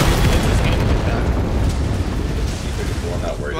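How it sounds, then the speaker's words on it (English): A loud, rumbling explosion in a World War 2 video game roars through the whole stretch as a dense, sustained blast that barely fades before the end. "Glad I caught that explosion on video."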